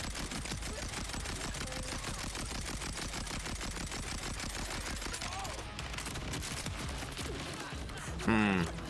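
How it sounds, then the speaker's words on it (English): Rapid, steady gunfire from Rowan's Charge in Borderlands 4 on a boss target, a continuous rattling stream of shots lasting the whole stretch, with a brief louder impact near the end. "if I just fire everything onto this lady"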